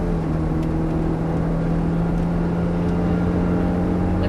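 A Ferrari F430 pulling hard on the Thruxton race track, a loud, steady engine drone holding one tone from close by inside the car, with constant wind and road roar.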